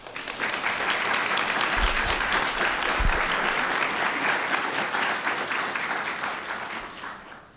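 Sustained audience applause fills a public board meeting room, steady and dense from start to finish before tapering slightly at the end, with no talking over it.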